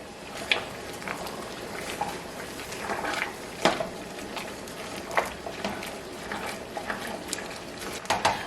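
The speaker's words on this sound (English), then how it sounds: "But I just gave that a good stir." A spoon stirs green beans with smoked turkey in a cooking pot, giving scattered soft scrapes and knocks against the pot, with a louder clank near the start and another near the end.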